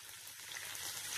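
Chili and ginger sizzle with fried onions in a pan for upma, a soft, steady frying hiss close by with no talking.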